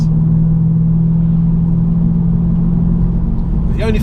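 Audi S5 4.2 V8 Quattro engine running with a steady, loud low rumble close by, holding a constant drone rather than a sharp rev rise, with brief faint sounds near the end.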